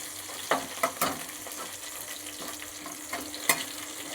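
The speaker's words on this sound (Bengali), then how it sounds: "শুকনো লঙ্কাটাকে একটু সাইডের পেঁয়াজগুলো সরিয়ে একটুখানি ভেজে নিচ্ছি" Dry red chili frying in oil at the side of a pan of onions, a steady close crackling sizzle broken by sharp pops and spatula scrapes at irregular moments, with no talking.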